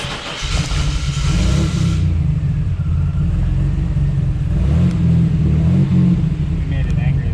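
A 1993 GMC Typhoon's engine runs loud and close throughout, a steady deep rumble with a rise in revs during the opening two seconds, while voices talk faintly over it.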